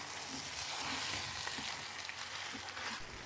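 Fried jackfruit cooking into a potato masala mix in a pan, a soft continuous sizzle with faint occasional stirring, fairly quiet and without talk.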